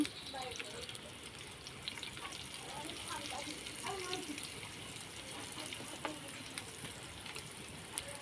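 Eggs frying in a pan with turmeric and salt give a steady, close sizzle with faint scraping and stirring sounds throughout.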